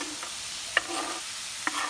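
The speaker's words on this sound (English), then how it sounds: "while our meat is cooking for our tacos, carne asada tacos" Carne asada sizzling in a skillet for tacos, a steady close frying hiss broken by two sharp clinks of a utensil stirring the meat.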